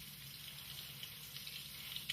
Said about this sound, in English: she takes the sample out again, washes it thoroughly with water